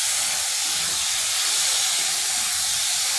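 Tomato sauce sizzles in a hot pan while being stirred during cooking of a simple egg pasta, a steady, close hiss of frying with no talk.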